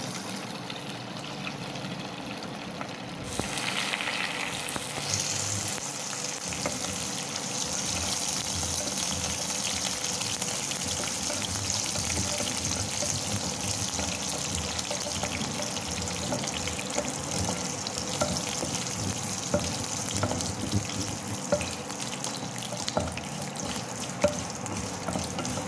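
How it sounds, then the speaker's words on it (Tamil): Dried red chillies and curry leaves hit hot oil and set off a sudden loud, close sizzle that goes on as a continuous hiss and crackle for about twenty seconds. "இப்போ நம்ம வரமிளகா போட்டுக்கலாம்,"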